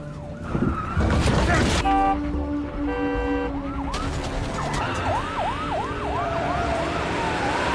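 An ambulance siren wails in rising and falling sweeps over traffic noise, loud and near, after a burst of clatter and a few tones.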